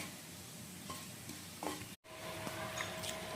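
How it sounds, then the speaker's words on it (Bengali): Cumin seeds and dried red chillies frying in oil in a pan, a soft steady sizzle with a few stirring scrapes and a brief pause in the middle, fairly quiet and close. "1 টেবিল স্পুন জিরা আর 2টা শুকনো লঙ্কা। আর এখন এই দুটো একটু ভালো করে আমি ভেজে নেব"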